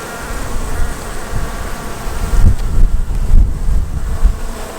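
Honey bees buzz in a dense, steady drone around an opened hive while frames are being moved, with a few louder low thumps near the end and no talking.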